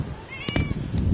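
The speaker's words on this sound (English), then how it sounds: "but hey cat" A cat meows outdoors on a windy, lightly rainy day by a pool, a short rising call followed by a second fainter meow over steady wind and low background rumble.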